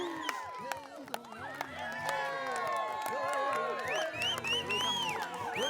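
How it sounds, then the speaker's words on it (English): Wedding guests cheer for the newly announced couple, a lively mix of shouts, whistles, claps and foot stomping that builds and stays busy throughout, with voices calling out over the din. "I want to see some epic cheering, foot stomping, woof whistling"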